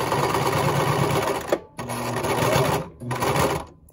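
A sewing machine tacks down the sides of a fabric mask, stitching in close, rapid runs broken by two short pauses.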